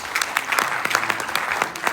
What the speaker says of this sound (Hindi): इनके लिए तालियां बजाइए जोरदार